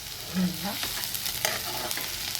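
Fenugreek leaves and potato frying in oil in a pan, browning, with a steady sizzle broken by scraping stirs of a spatula against the pan, close and continuous with no talking.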